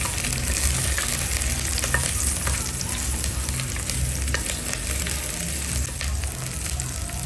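Garlic sizzles in a small amount of cooking oil in a pan, a steady dense crackle with occasional stirring scrapes, close and continuous with no talk.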